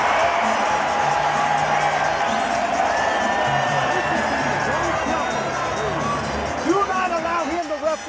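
Arena crowd roars and cheers continuously at a Manny Pacquiao vs Mario Barrios boxing match in the MGM Grand Garden Arena, a dense wash of hubbub with whoops under an announcer's voice.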